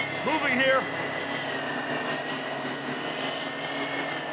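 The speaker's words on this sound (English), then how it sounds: "Recon drone active." A recon drone in Warzone 2.0 drones on steadily with a buzzing, propeller-like whir, loud and continuous, while a voice speaks briefly at the start.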